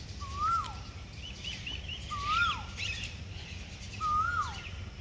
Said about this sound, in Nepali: चरा चुरुङले गीत गाइरहेको सुन्नु पनि एक्चुअली केही